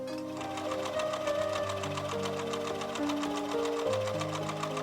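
Sewing machine stitching French seams in Liberty fabric, a steady, fast mechanical whir with rhythmic needle pulses, running continuously under soft background music.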